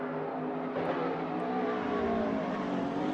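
A McLaren race car engine in a sim racing game, a continuous loud drone with steady revs and a slight rise partway through, heard alone without talk.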